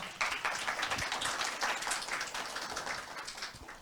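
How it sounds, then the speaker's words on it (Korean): Audience applause at an academic forum before a student presentation, a dense steady wash of many hands clapping that fades slightly toward the end. "여러분 박수 부탁드립니다."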